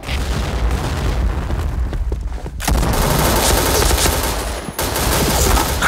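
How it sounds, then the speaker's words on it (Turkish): Grenade blasts and bursts of gunfire in the shooter game Point Blank, loud, dense and nearly continuous, with a brief lull midway before the barrage resumes. "Dikkat, bomba atıyorum."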